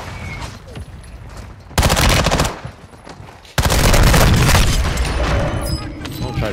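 Mortar blasts in an online multiplayer shooter game, two loud booming bursts of rapid explosive fire, each sustained for a moment and very close, with quieter game noise between them.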